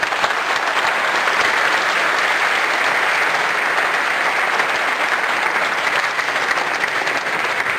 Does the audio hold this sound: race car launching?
no